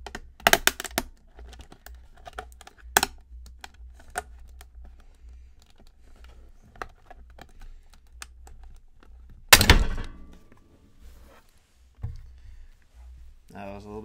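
Plastic casing of a Seagate Expansion external hard drive is pried and peeled apart, giving scattered clicks and snaps with a couple of sharp cracks, including one loud pop near the end.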